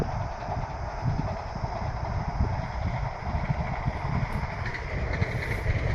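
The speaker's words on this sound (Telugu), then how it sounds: "ట్రైన్ అయితే వెళ్తూ ఉంది" A passing train gives a steady, dense rumble and clatter that carries evenly through the whole stretch, close and fairly loud, with no voices over it.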